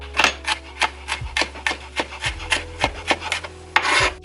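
A kitchen knife mincing garlic on a wooden cutting board, a steady run of close, crisp chopping taps with short pauses, no talking.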